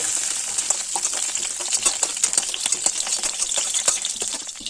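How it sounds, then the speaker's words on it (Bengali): Cauliflower frying in oil over a low flame makes a steady crackling sizzle, with frequent small pops and spits over a constant hiss, close and moderately loud, and no talking. "এবার কিন্তু গ্যাসের ফ্লেমটা লোতে করে দিয়ে আস্তে আস্তে ফুলকপিটা ভাজবো"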